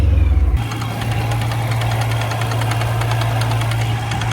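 A supercharged BMW M3 track car engine starts up and idles with a steady rumble, while a rapid, regular clicking from the blow-off valve taps along like rod knock.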